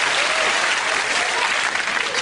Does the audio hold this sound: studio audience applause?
yes